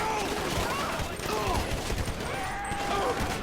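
Sustained automatic gunfire from a shootout in GTA 5 Online, a dense, continuous stream of rapid shots mixed with game effects that stays loud throughout, with some voice chatter underneath.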